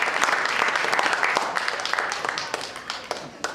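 An audience at a Coconut Grove Players stage show gives a round of applause, dense and steady clapping that thins slightly toward the end, with a few voices underneath.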